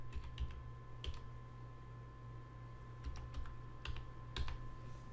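A computer keyboard tapped out in several short bursts of quick, soft clicks, close and isolated, over a steady electrical hum with no talking.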